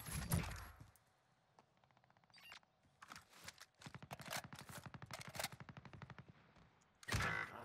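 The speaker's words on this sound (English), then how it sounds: "Who the f*** just sniped me," Rapid gunfire in the Warzone video game, a quick burst of shots up close at the start, then a long stretch of fast, evenly spaced cracks at moderate loudness, ending with another loud close burst.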